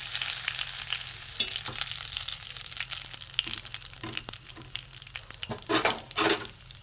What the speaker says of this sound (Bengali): উল্টে পাল্টে দিচ্ছি